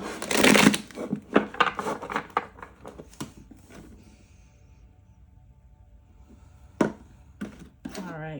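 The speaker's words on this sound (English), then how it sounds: "let's do one more nice shuffle" Tarot cards are riffled and shuffled in a quick flurry of papery flicks, followed by quieter taps and a few more shuffles near the end.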